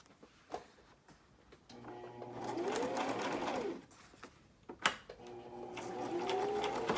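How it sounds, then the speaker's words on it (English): A sewing machine stitches down the center of a paper booklet journal in two steady whirring runs of a few seconds each, the motor pitch rising and falling, with clicks and a brief knock between runs on a shaking table. "I'm going to sew down the center of this booklet"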